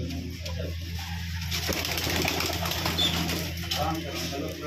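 Pigeons flap their wings in short bursts over a steady background hum, the fluttering fairly close with some faint voices around.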